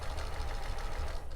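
A sewing machine stitches lace flat onto fabric for a heirloom bonnet, its rapid, even mechanical chatter running steady and close for a brief moment.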